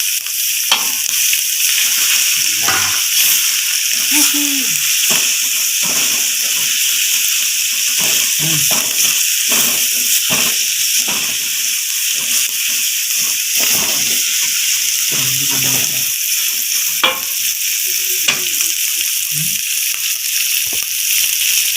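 Shallots and garlic fry in hot oil for a bat rica rica dish, giving a loud, steady sizzle and hiss throughout, with faint stirring and brief quiet speech underneath.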